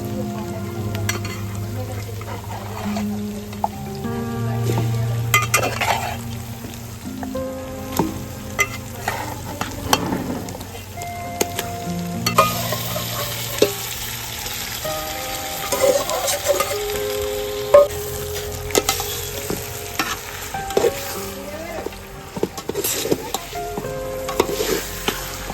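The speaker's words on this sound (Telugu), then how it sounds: "ఆల్రెడీ మనం మ్యారినేట్ చేసుకున్న చికెన్ ఇప్పుడు వేసుకుందామండి." Marinated chicken frying in a pot over a wood fire at a farmhouse gives a loud, steady sizzle with occasional metal clinks, while voices murmur in the background.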